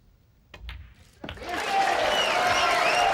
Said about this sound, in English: Big cheer already